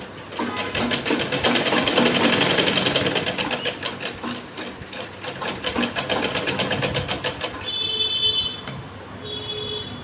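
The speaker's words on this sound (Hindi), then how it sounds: "और एक धार स्टिच लगा देंगे यहाँ पे।" A sewing machine runs a fast, continuous stitch along a trouser pocket seam, its rapid rhythmic clatter sustained for several seconds before stopping and giving way to faint tonal beeps and handling sounds.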